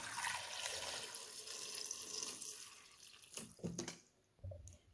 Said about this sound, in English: let's put water.